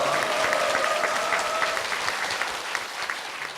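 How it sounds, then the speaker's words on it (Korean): A church congregation applauds to bless a couple, a broad even patter of many hands heard from a distance in a large worship hall, holding steady throughout. "두 분께 축복의 박수 부탁드리겠습니다"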